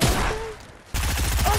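Rapid bursts of video game gunfire crackle through a water fight match, a dense rattle that dips briefly before resuming at full loudness, with a short whistling tone overhead.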